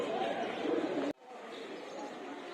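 Pigeons in a loft give soft cooing bird calls that carry steadily through the clip. The sound drops abruptly partway through, then carries on quieter.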